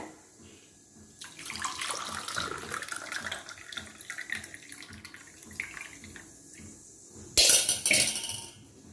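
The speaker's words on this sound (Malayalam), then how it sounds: "അപ്പം ഞാൻ അതൊന്ന് അരിച്ച് ഇതിലേക്ക് ഇടുന്നുണ്ട്" A garlic and salt liquid is strained and poured in a home kitchen, a steady splashing trickle close by that runs for several seconds, then a brief louder gush near the end.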